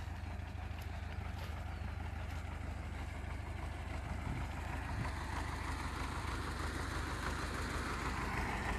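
A UMZ tractor engine idles steadily as it warms up, a constant low rumble with no change in pace, heard close and without speech, with a few faint clicks on top.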